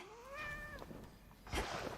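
A cat in the Hades 2 video game lets out one clear rising-and-falling meow, followed by faint game effects and a soft burst of noise near the end.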